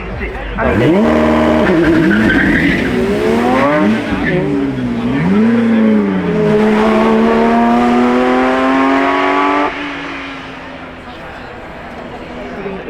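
A Porsche 911 drives at the Goodwood Festival of Speed, its engine loud and close, rising and falling through revs and gear changes before easing to a lower, quieter drone near the end.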